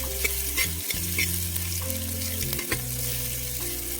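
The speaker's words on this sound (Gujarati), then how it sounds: "આપણે કંઠોલા ઉમેરી દઈશું મસાલાને જે આપણે મિક્સ કરી લઈશું" Kantola sautéing with garlic and spices in a pan, a close, continuous sizzle with scraping stirring strokes, under a steady low hum, no talking.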